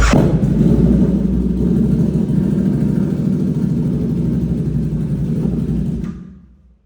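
A diesel Isuzu D-Max pickup, running low on fuel, rumbles steadily at idle close by for about six seconds, then its deep drone quickly fades away as the engine shuts off.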